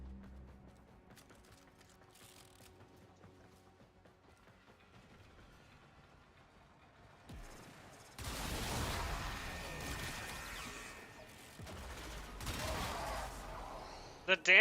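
Pistol fire in the video game Warframe: a quiet stretch gives way to loud, dense bursts of rapid shots about halfway through, with brief pauses between volleys.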